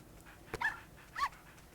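A puppy in Nintendogs gives two short soft whimpering yips about half a second apart, close and fairly quiet, with no talking.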